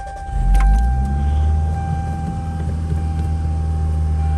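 A 1990 Toyota Celica GT-S widebody engine starting up, a brief starter whir rising into a steady low idle with a faint electronic whine, close and loud from inside the car, no talking.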